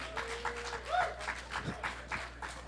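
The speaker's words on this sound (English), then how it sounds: "Give these guys Rub it a in. cheer" Audience at a retro gaming expo's video game trivia show cheering and applauding a trivia team, a brief burst of claps and cheers with voices calling out over it.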